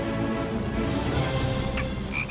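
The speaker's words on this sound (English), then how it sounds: "Frogs. We wouldn't want to get too close to those." A chorus of frogs croaking continuously and loudly, dense overlapping calls filling the air with no voices.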